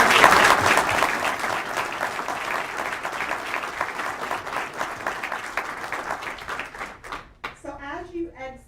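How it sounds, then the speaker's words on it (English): Dense audience applause fills a show barn after a distinguished lecture event, holding steady for about seven seconds before fading as a voice begins speaking. "I'd like to just do one more round of applause for Deputy Secretary Vaden, Dr. Muhammad."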